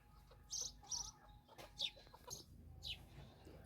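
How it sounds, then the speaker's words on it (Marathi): Several short chicken calls and chirps ring out at intervals over a low, steady background rumble. "कोंबड्या कशा तुटून पडल्यात"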